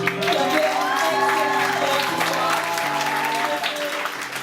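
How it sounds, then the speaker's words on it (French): Audience applause for Cassandre at the launch event, a sustained wash of clapping running steadily throughout with tonal music or voices underneath. "J'aimerais que tout le monde donne une bonne main d'applaudissement à Cassandre."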